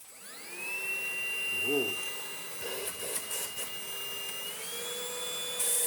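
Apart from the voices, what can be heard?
Easine G50 cordless vacuum cleaner running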